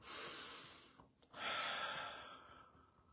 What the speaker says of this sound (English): So you can do breaths through the nose.